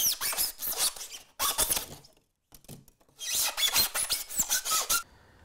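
Carving knife slicing through model railway scenery material, heard as bursts of close, dry rasping and squeaky scraping strokes separated by short pauses, with no voices.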